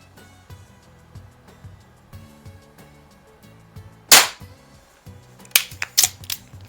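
A Baikal IZH-46M air pistol fires with a sharp, close crack partway through. A quick burst of snappy clicks and knocks follows, over a soft, steady tonal background.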